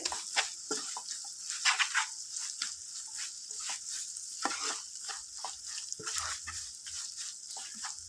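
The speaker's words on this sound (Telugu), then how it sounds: "అల్లం వెల్లుల్లి పేస్ట్ పచ్చివాసన పోయేంతసేపు వీటిని చక్కగా ఫ్రై చేసుకోవాలి" Ginger-garlic paste frying with broad beans in a pan for a Telugu bean and tomato curry, giving a steady close sizzle with soft stirring scrapes throughout and no talk.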